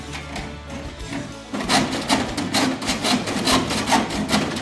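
A rotten Morris Minor's front end being hand sawn, quiet at first, then a loud, rhythmic rasping of repeated saw strokes close up.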